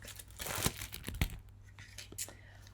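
Plastic wrapping is torn and crinkled off a tarot card box, with a few sharp ripping bursts and softer rustling crackles at close range, then quieter handling toward the end.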